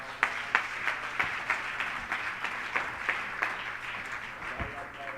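Church congregation clapping and cheering during a worship service, a continuous rhythmic patter of many hands with regular louder beats, heard at moderate distance and fairly faint.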